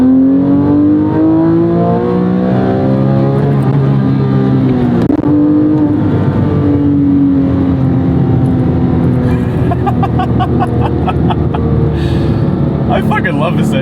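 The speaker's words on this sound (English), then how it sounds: "I fucking love this engine, man." A Porsche 911 GT3 997.1 flat-six engine revving loudly while driving, rising and falling pitch through gear changes, close and dominant, with someone talking over it at times.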